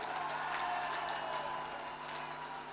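A large outdoor rally crowd roars and cheers in a steady, dense wash of noise lasting a few seconds, with no distinct individual voices standing out.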